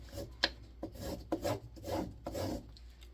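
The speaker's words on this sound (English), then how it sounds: "That is that old compound, and you just scrape it out of there." A blade scrapes old compound out of a leather strop in short rasping strokes, several passes in a rough rhythm, close and fairly quiet with no talking.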